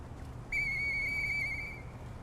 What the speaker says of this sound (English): Hey, that sound. Is that you, Murphy? I know that whistle.